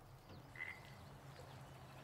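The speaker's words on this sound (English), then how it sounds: "How many frogs are they?" Swamp frogs croak in the Gator Zone area of the tactical video game Miasma Chronicles, one short, faint croak standing out over a low, steady ambient bed.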